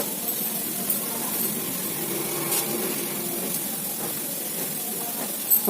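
Dosa batter sizzling in coconut oil on a hot pan, a soft steady hiss close by with a couple of faint clicks near the end.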